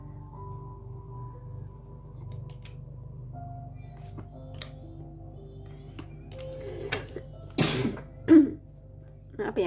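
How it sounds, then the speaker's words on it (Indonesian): Someone coughs and clears their throat in a few short, close bursts near the end, following a quiet stretch with faint background music. "kakak masih batuk"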